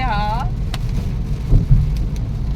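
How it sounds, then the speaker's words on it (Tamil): Heavy rain pours down around a moving car near Palani, a dense, steady hiss and drumming close by, with a voice heard briefly at the start. "நல்லா மழை வந்துருச்சு."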